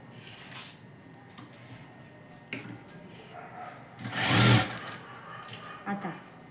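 A sewing machine runs in short bursts while stitching a blouse, with louder, denser whirring near the middle of the clip and a brief burst near the end.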